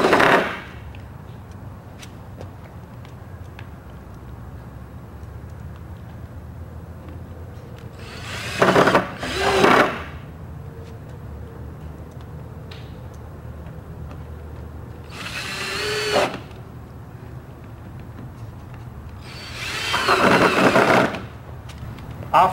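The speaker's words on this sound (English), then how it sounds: "we now put in the 4 little screws to attach that." A power drill drives small screws into a wooden sandbox kit in four separate short whirring bursts spaced across a mostly quiet stretch, near and fairly loud.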